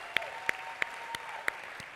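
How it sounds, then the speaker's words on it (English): Scattered, faint handclaps from a summit audience at a closing keynote, a handful of separate claps spaced evenly apart rather than full applause. "Give yourselves a round of applause."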